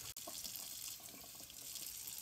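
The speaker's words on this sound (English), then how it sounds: "we're going to turn our hot water on and let that heat up" Hot water runs steadily from a household tap into a sink, a continuous close splashing hiss with a brief dropout near the start, no voices.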